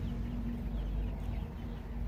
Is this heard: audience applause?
no